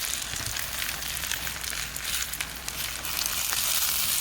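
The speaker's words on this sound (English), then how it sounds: "poured about a half a dozen eggs into the middle of the pan and then mixed them up" About half a dozen scrambled eggs fry in bacon grease in a pan, a steady close bright sizzle and crackle that runs unbroken, with no talk.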